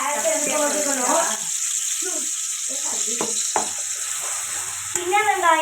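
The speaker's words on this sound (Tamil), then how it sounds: "சின்ன வெங்காயம் போட்டு எண்ணெயோட நல்லா வதக்கிக்கணும்" Shallots sautéing in hot oil for a Bakrid meal, giving a steady sizzle with scattered stirring scrapes, while someone talks over it.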